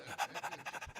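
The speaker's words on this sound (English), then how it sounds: "it's not me breathing that way. It's the dog." A dog pants close to the microphone in quick, even breaths, about eight or nine short huffs in a second. The panting is soft and rhythmic, with no other sounds around it.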